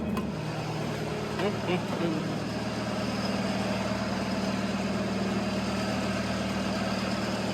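A sailboat's engine motor running at sea, a steady low droning idle hum that continues unchanged, with faint brief knocks early on.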